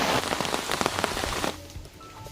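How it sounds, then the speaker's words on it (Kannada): Heavy rain pours down in a garden, a dense, loud hiss of drops hitting leaves and surfaces that thins noticeably partway through into lighter, scattered patter. "ಜೋರ ಮಳೆ ಬರ್ತಿದೆ."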